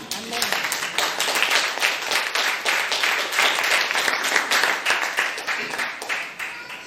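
A church congregation claps and applauds together at a sermon on forgiveness, a dense, steady wash of many hands lasting throughout and fading slightly at the end, with some voices mixed in.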